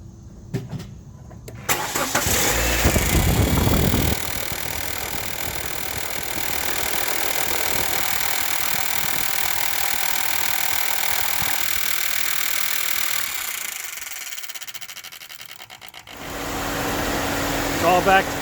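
A 2002 Nissan Sentra engine, freshly rebuilt after a head gasket repair, cranks and starts with a loud burst, then settles into a steady idle hum, with a brief cut before it runs again.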